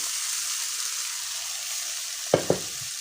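Beef tripe frying in a thick spice masala, a steady hiss with two quick, sharp stirring knocks of a spoon against the pan toward the end.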